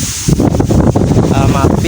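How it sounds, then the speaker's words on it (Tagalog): Strong wind buffets the microphone outdoors in loud, rumbling gusts while a person talks through it. "sobrang lakas ng hangin"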